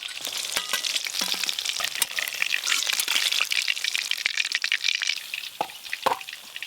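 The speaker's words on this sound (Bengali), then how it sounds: "কাতলা মাছগুলো একদম হালকা করে ভাজা হয়ে গেছে" Katla fish pieces fry in a hot pan with a busy, continuous sizzle and crackle, broken by sharp spatters and a few stirring clicks, close and steady without any talk.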